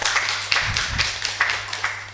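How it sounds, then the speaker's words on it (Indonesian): A short burst of scattered hand clapping from a talk show audience, a few distinct claps spaced irregularly with a low hum underneath. "tepuk tangan dong Pak Bupati."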